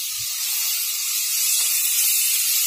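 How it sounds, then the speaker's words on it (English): Tomato puree hitting hot frying masala for a jackfruit curry, a steady, loud, close hiss of sizzling that holds evenly throughout. "Add in the tomato puree."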